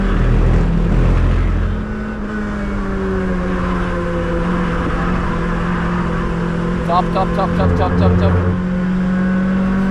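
Toyota Celica race car engine droning under throttle at the Nürburgring, a loud steady in-cabin tone rising in pitch as it accelerates, with other cars nearby and voices talking over it.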